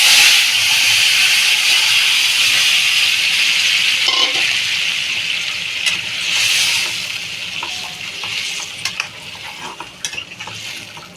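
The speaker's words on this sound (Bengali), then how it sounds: "আমি এবার তরকারিটা ঢেলে দেবো।" Fish curry with thankuni leaves poured into a hot pan in a Bengali village kitchen, bursting into a loud, steady hiss of sizzling steam, with stirring and scraping sounds as the hiss gradually eases.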